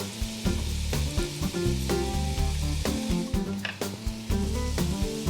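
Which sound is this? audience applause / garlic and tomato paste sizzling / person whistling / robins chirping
garlic and tomato paste sizzling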